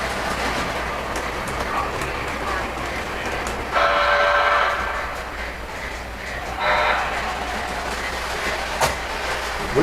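A model Polar Express train set running on its track during a holiday operating session, a steady low rolling rumble with faint rail clatter throughout and brief whistle-like tones sounding twice in the middle.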